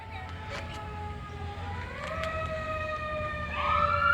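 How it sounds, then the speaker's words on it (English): A San Antonio Fire Department fire truck carrying Santa Claus through a neighborhood sounds its siren, a wailing tone that rises in pitch and grows louder as the truck approaches. "You hear that siren, folks? That's Santa. Not on his reindeer, on a fire truck."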